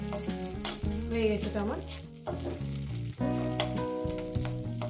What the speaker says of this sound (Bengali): আর হয়তো 1 মিনিট নাড়াচাড়া করবো